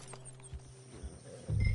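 Horse hooves in Red Dead Redemption 2 sound as a few soft, scattered thuds, followed by a louder rumbling surge at the end.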